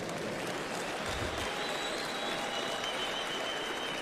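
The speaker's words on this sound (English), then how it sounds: "Clap hands for Jesus." A church congregation claps for Jesus, a continuous, even roar of many hands clapping together, moderately loud and unbroken throughout.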